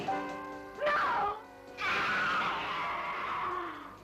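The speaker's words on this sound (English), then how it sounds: "I heard somebody scream just now." A woman's scream from a crime film trailer rings out loud and harmonic, then breaks off, followed by a second long strained cry that trails into a falling groan.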